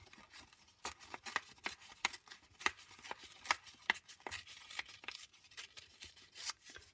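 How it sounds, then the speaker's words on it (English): Scrap copy paper is torn by hand in a series of short, crisp rips and rustles, close and fairly quiet, coming in an uneven rhythm with brief pauses between strokes. "all you're going to do is you're just going to tear it"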